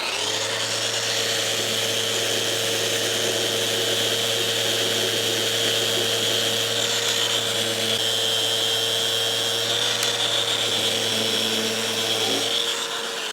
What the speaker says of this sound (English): Now I'm going to sand off those 2 little dark spots.